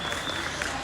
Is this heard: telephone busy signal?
no